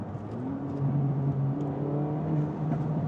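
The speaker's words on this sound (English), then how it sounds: "The exhaust sounds fantastic in Sport Plus." A 2024 Acura Integra Type S engine hums and revs up in Sport Plus mode, its exhaust note rising and falling in smooth surges, fairly close with no talking.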